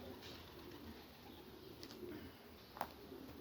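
Young pigeons coo softly in a loft, a low steady murmur of birds with a few brief louder calls rising over the background.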